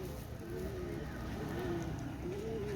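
Pakistani pigeons cooing, a continuous run of soft, low, warbling coos repeated close by without pause.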